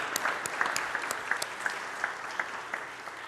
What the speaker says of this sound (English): can we give another round of applause for all of our commissions and our executive